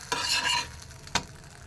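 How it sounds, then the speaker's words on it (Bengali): Pea-stuffed pieces frying one at a time in a kadai, with a bright burst of hot-oil sizzle at the start, then a single sharp scrape or clink of a utensil later, close and fairly loud with no speech. "এই যে রেডি, এক একটা করে আমি এভাবে ভেজে নিচ্ছি।"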